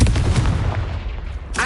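A Confringo blast spell cast in the Hogwarts Legacy video game lands as a loud, booming impact burst, with a deep rumbling tail fading over a second or so before a brief new crackle at the end.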